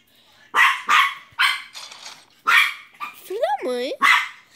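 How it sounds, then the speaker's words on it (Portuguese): A dog barks in several sharp, loud bursts close by, followed by a whining, whimpering yelp and one more bark, with a person talking around it. "Esse cachorro não para de latir."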